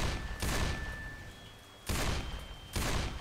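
Loud gunfire from a Magnum pistol in the zombie shooter Left 4 Dead 2, crossing a park: three heavy, booming shots spaced about a second apart, each with a broad blast and a lingering tail.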